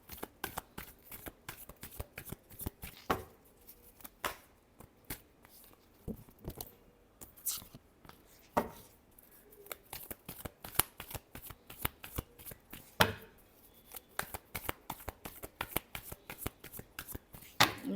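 Tarot cards shuffled by hand, a long run of crisp riffling snaps and soft slides in irregular quick bursts, close and fairly quiet, with no talking.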